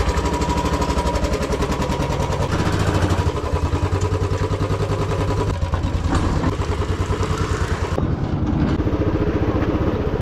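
A Royal Enfield Bullet motorcycle with a newly installed silencer runs close by with a loud, rapid, thumping exhaust beat that holds steady, with a change in tone partway through.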